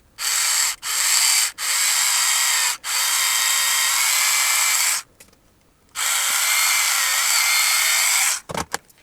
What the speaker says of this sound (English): let's drill some holes into the end of this